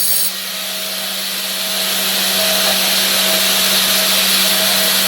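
Angle grinder disc sharpening the steel teeth of a stump grinder, a steady high whine with a faint grinding rasp, light pressure, close and continuous with no talk.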